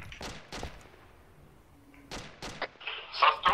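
Gunfire in the tactical military shooter ArmA 2: several sharp reports spread over a few seconds, some near and some more distant, with a burst of noise near the end.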